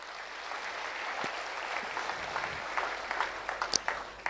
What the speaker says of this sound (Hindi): जोरदार उनके लिए भी एक बार तालियां बजाइए।